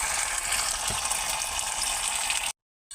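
Meat and onions cook in a frying pan for a thin chicken and vegetable curry, giving a steady, close hiss of frying. The sizzle runs unbroken, then cuts to silence and briefly returns at the end.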